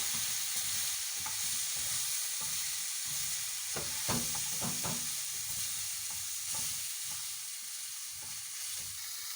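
Oxtail soup thickened with cornstarch is stirred in a pot over a steady bubbling hiss, with a few quick scraping strokes in the middle, close and fairly quiet.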